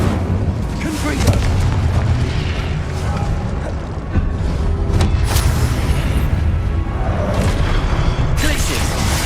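Explosive spell blasts in the Hogwarts Legacy video game, a dense, continuous barrage of booming bursts and rumbling impacts with sharp cracks near five and eight and a half seconds, loud throughout.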